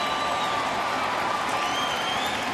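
Dense, steady roar of a big crowd at a baseball stadium in Detroit during a night Tigers game against Cleveland, a continuous wash of distant cheering and murmur with no clear break.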